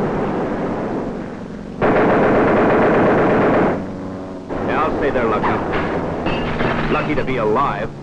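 A waist gunner fires a machine gun from a bomber in loud, sustained bursts, with a roaring wind and engine drone behind and someone speaking over part of it.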